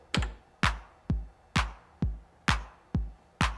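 A Roland TR-909 drum machine plays a steady four-on-the-floor kick with hand claps on the second and fourth beats, a crisp punchy electronic pattern alone without voices.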